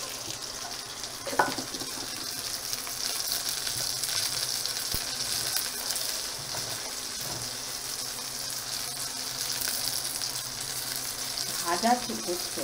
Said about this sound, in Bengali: খুব সুন্দর এখানটা ফ্রাই হচ্ছে